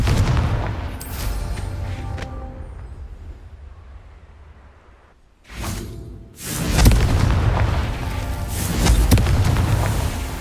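Booming spell blasts from the Confringo curse in Hogwarts Legacy, a loud burst near the start, then after a brief lull two heavy explosions that leave a dense, rumbling roar with crackling debris.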